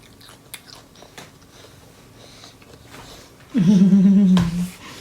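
A child bites into crunchy vegetables, with soft scattered chewing clicks followed by one louder, close crunching bite near the end.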